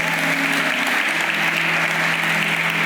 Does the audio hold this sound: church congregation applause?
yes